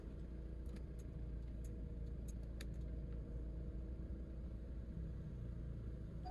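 Steady low road-traffic rumble heard from inside a Lalamove delivery vehicle, engines droning continuously with faint higher clicks and ticks scattered over the first few seconds.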